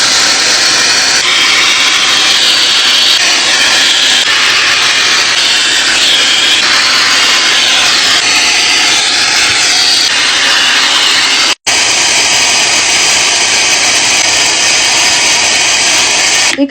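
Hair dryer fitted with a round nozzle attachment, blowing a loud, steady broadband whoosh for about eleven seconds, cutting out for an instant, then resuming just as strongly to the end.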